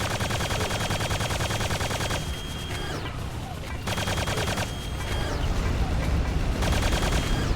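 Dense, continuous gunfire and blasts from a Quake II firefight, with grenades going off among rapid weapon bursts, loud and steady throughout with brief lulls.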